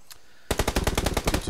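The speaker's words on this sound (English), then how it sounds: "So I can hear those gunshots from my position." Rapid automatic gunfire in the video game PUBG: a faint single shot, then a loud, close burst of about a dozen evenly spaced shots in quick succession.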